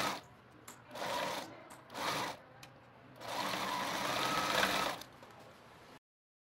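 A sewing machine stitches a fabric lining, running in short bursts and then a longer steady run. The whirring is close and moderately loud, with brief pauses between stretches.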